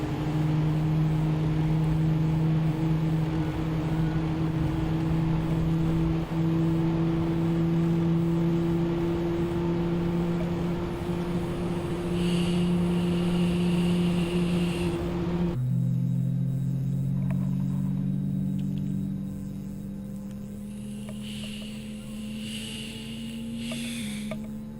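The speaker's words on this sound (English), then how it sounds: "looks like engine number 2 is stabilizing, so I'm just gonna wait for it to get to 22" Airbus A320neo engine on a Microsoft Flight Simulator flight from Leeds Bradford to Munich spooling up: a steady loud turbine hum with rising and shifting whine tones, then a quieter settling drone, no talking.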